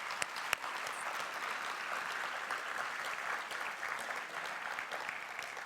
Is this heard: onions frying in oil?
no